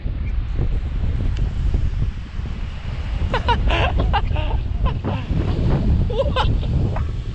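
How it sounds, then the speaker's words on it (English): Strong wind buffeting the microphone outdoors, a continuous loud low rumble throughout, with a few brief higher-pitched sounds partway through. "It's pretty windy"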